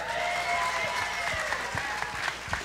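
A live audience at a KIRO Radio event in Bellevue claps in a steady burst of applause, dense and sustained with a few sharper claps standing out near the end.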